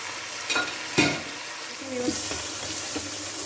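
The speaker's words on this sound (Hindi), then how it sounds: "इसको मैं 2-3 मिनट लहसुन अदरक में भूनूंगी" Beef frying with garlic and ginger in a pan for nihari, a steady close sizzle with a few sharp stir scrapes and clatters, no talk.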